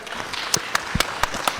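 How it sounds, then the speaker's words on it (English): Scattered audience clapping at a panel discussion on mobile money: a handful of sharp, separate claps arrive at an uneven pace over a soft background hum, sounding sparse rather than a full ovation. "A round of applause, please, for Isaac."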